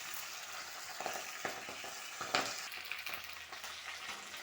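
Fenugreek leaves fry in oil with a soft, low sizzle, broken by brief crackles and light stirring scrapes, faint and close.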